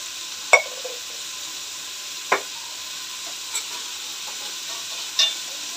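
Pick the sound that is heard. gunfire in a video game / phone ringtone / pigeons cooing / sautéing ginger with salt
sautéing ginger with salt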